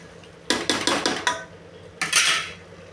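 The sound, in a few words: sautéing masala with a spoon in a pot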